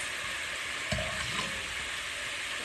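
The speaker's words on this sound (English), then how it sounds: "now we need to cook our onions just a little bit to help build a good base for our beef stews" Onions for a beef stew sizzle steadily in a hot pan, a soft continuous frying hiss with a brief stirring scrape partway through.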